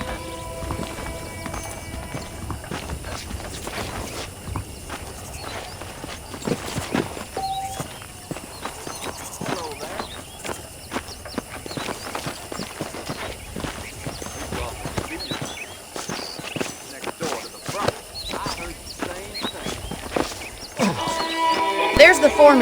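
Horse hooves clip-clopping at a steady walking pace while riding in the open-world western game Red Dead Redemption on PC, continuous and fairly close, with characters talking over much of it and faint ambient sounds around.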